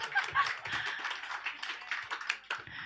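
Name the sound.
comedy audience applause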